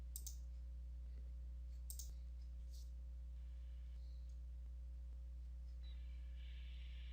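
Mouse clicks while downloading a model in InfraWorks 360 road design software: a few sharp, faint clicks spaced a couple of seconds apart over a steady electrical hum.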